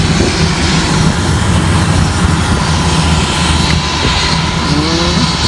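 A small passenger plane flown over Galveston, Texas, drones with a steady, loud engine roar from inside the cabin, continuous and unbroken throughout, with no voices over it.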